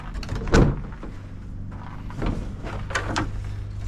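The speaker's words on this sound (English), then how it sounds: "And we'll go here and open the door." A shed door on a small concrete pad, sheltering a Springwell water system, is pulled open with a sharp clunk near the start, followed by softer rattles and bumps close by.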